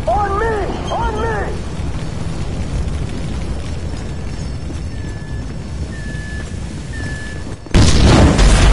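Explosion in GTA 5 during a FIB building raid, a sudden loud broadband boom bursting in near the end, after a stretch of low rumbling ambience with a brief voice at the start.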